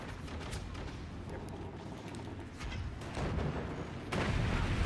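Missiles exploding in the video game Forts, a dense rumbling barrage of booms and blasts that rolls on throughout and grows louder toward the end.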